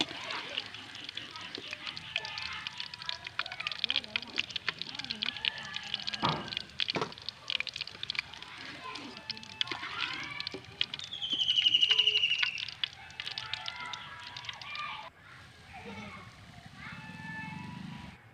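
Pork pieces fry in hot oil in a pan, giving a steady broadband sizzle with crackling pops throughout and a brighter surge near the middle before it settles lower toward the end.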